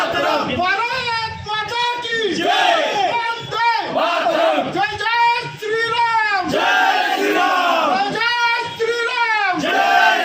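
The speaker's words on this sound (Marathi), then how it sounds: "मोठ्या मोठ्या मोठ्या प्रमाणात जल्लोष साजरा होताना आपल्याला दिसत आहे" A crowd of Mahayuti party workers chants and cheers together in rhythmic, loud slogans celebrating an election win in Purandar, Pune, with repeated rising shouted phrases.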